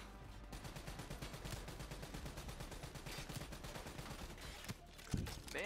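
Rapid, sustained automatic gunfire from the Call of Duty: Black Ops 3 campaign rattles on continuously, a dense fusillade of shots with explosions layered underneath, played at low overall volume.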